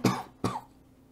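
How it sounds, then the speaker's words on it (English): Two quick, sharp coughs a moment apart from someone whose water went down the wrong pipe, close and fairly loud, then quiet. "Just cough it out."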